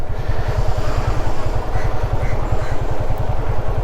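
A motorcycle engine idles close by with a loud, rapid, even thumping pulse and some mechanical clatter, running steadily throughout.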